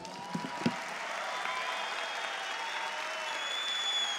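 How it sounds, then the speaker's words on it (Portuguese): Large conference crowd in São Paulo applauds Buzz Aldrin at an opening ceremony, a broad, smooth wash of distant clapping that holds steady, with a few sharper claps near the start. "eu acho que deveríamos todos dar um aplauso enorme para ele"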